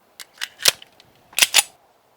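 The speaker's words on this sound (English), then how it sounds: "We're gonna be shooting a 1911, a little bit fatter bullet." A .45 caliber 1911 pistol fired at a bulletproof Humvee windshield: a handful of sharp, dry cracks in two short clusters, fairly distant and clipped, with quiet between and no voices.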